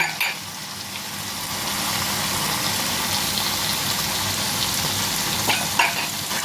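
Yogurt hits hot oil over spiced chicken for chicken makhani, bursting into a loud, dense, steady sizzle close up with a few sharper spatters.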